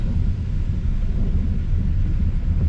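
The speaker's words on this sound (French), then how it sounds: "C'est la première fois que j'attends le tonnerre depuis tantôt." Low, continuous thunder rumbles through a storm chase near Saint-Bruno on a June 2022 day, a deep steady growl without sharp cracks and no speech.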